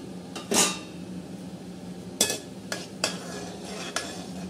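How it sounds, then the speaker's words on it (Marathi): Cumin seeds fry in a pan while a spoon stirs, giving a faint sizzle and several sharp metallic clinks and scrapes against the pan at irregular intervals. "आता जिरं मस्त फ्राय हलवून घेणार आहोत जिरं आता आपण।"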